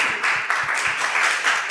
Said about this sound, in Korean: 우리가 크게 한번 격려하며 감사하며 한 번 더 박수해 주시면 좋겠습니다